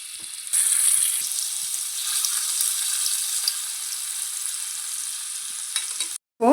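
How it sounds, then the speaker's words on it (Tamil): Cubes of paneer fry lightly in hot oil, giving a steady bright sizzle that starts abruptly, holds fairly loud for several seconds, then cuts out near the end. "இப்போது இந்த எண்ணெய் சூடு வந்ததும் பன்னீரை அது கூட சேர்த்து லைட்டாக ஃப்ரை பண்ணி எடுத்துக்கலாம்"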